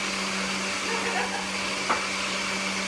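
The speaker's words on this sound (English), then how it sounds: "You can let that blender go for about a minute, maybe to 2 minutes if you'd like" A blender runs continuously, blending crepe batter with a steady loud whirring drone and no pauses.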